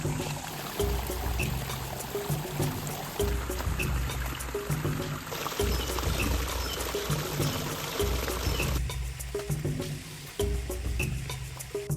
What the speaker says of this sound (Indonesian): aku akan menelusuri anakan sungai ini